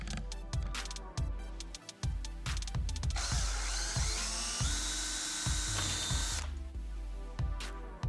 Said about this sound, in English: here's one of the plastic rivets that you gotta drill out